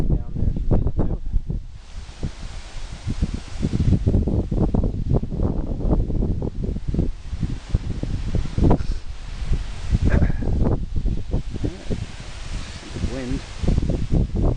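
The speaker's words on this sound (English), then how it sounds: "Wind." Strong wind at the Kohunlich Mayan ruins in Mexico buffets the microphone in steady rough gusts, with rustling throughout and a voice partly audible beneath the noise.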